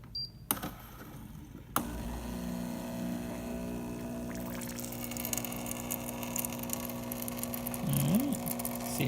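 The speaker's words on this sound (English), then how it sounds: "we'll do some hot water first." After a couple of clicks, a tuned-up Gaggia espresso machine hums as it dispenses hot water, a steady low drone with a faint trickling pour that grows slightly busier toward the end.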